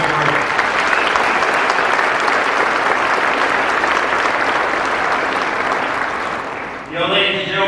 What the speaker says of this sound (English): I ask you to join me in a round of applause for that color detail, that sword detail, that cape detail